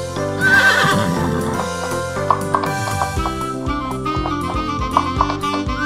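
A cartoon horse gives a loud, close whinny, followed by a run of clip-clopping hooves and further short neighs over a bright musical backing in a children's vehicle cartoon.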